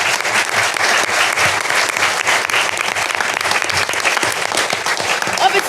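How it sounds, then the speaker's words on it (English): An audience applauds a discussion panel on cultural boycotts and artistic freedom, a loud, dense and sustained round of clapping that fills the room. "Let's give them a round of applause."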